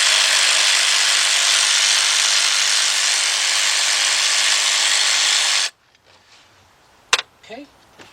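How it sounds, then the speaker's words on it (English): A battery-operated ratchet whirs steadily and loudly for several seconds on a 2012 Dodge Durango SXT 3.6 engine during thermostat replacement, then cuts off, leaving faint clicks and handling noises. "Get yourself a battery operated ratchet."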